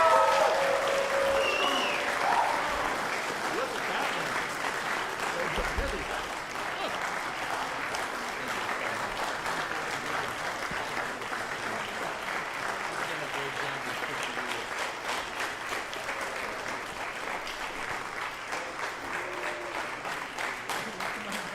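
Long, steady applause from an auditorium audience for a trophy winner at a competition final, many hands clapping continuously for over twenty seconds, with some voices faintly audible beneath.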